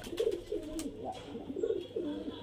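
A male Giribaz highflyer pigeon coos softly up close, three or four rolling throaty calls in quick succession with light handling noises in between.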